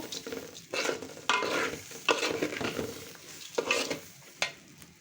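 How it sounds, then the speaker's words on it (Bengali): Polao rice for beef biryani fried and stirred in a pot, each spoon stroke scraping audibly over a light sizzle in an uneven rhythm, close up, with no one speaking. "পোলাও চালটা ভালো মতো ভাজা হয়ে গেছে"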